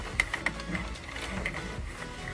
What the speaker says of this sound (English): So go ahead and continue to crank for another row.